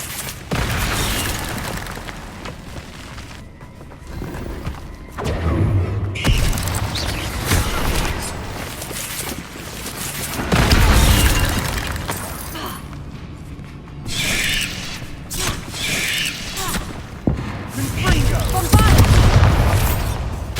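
Explosions from the Confringo and Bombarda spells in the game Hogwarts Legacy, several heavy booms and shattering bursts at intervals, loud and close, with a voice shouting over them.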